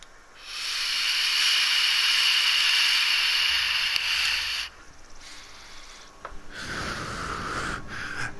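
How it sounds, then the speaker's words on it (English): A vape pen is puffed up close, giving a long, steady airy hiss that drops away after a few seconds, followed by softer breathy exhales. "That sound you just heard was my vape pen."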